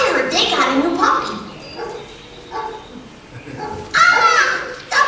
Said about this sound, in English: The prodigal dog returns!